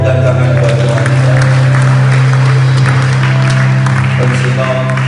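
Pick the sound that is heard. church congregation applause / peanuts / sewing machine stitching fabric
church congregation applause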